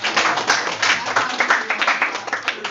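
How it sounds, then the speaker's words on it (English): A classroom of students claps in a brief round of applause after a library presentation, a dense burst of quick hand claps with some voices mixed in. "Everybody thank Carl Cover with a round of applause."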